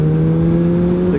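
A motorcycle engine runs under steady acceleration, its loud, close, even drone holding strong low tones throughout with a slight shift near the end.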